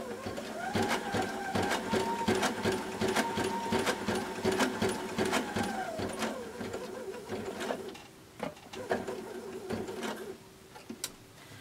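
A Sashiko sewing machine stitches a quilt with a fast, steady mechanical chatter of repeated stitches, running continuously and close by before easing into brief pauses and a few scattered clicks near the end.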